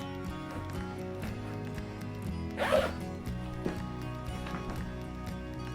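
A single quick pull of a diaper bag zipper rasps close by, brief and crisp, over a steady low background hum.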